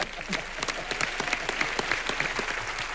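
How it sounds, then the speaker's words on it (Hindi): Studio audience on a Hindi comedy talk show applauds loudly and steadily, a dense clatter of many hands with sharp individual claps throughout, close and sustained with no talking. "इनके लिए जोरदार तालियां"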